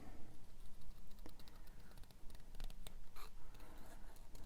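Small scissors snip through paper tags for a junk journal, a quick scatter of crisp clicks and rustling cuts close by over a steady low background rumble, with no voices.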